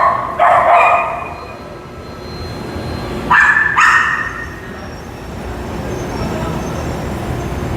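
Small dog yipping in a shopping mall, two short bursts of rapid high barks a few seconds apart over a steady indoor background hum.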